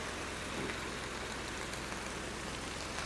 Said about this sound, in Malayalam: മഴയായി മഴയായി